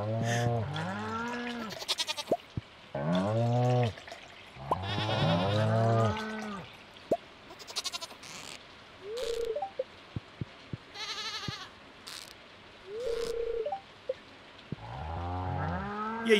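Several loud, close goat bleats from the farm game Stardew Valley, repeating in wavering cries with some sheep-like baas mixed in, plus short game chimes, clicks and soft pattering rain in the gaps.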